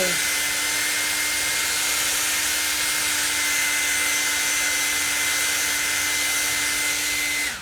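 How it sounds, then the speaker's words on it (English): A hair dryer blows steadily on the eyebrows, a loud continuous whooshing hum with a faint whine that runs unbroken, close to the mic, before cutting off at the end. "It's a hairdryer to the eyebrows."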